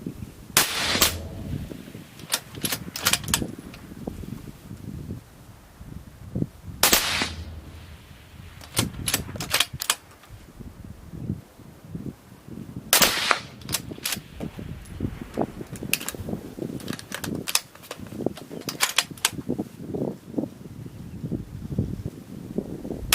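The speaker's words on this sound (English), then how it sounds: "Now let's do 4 rounds suppressed." A rifle fitted with a silencer fires four suppressed shots outdoors, sharp cracks spaced several seconds apart over gusting wind and small rustles.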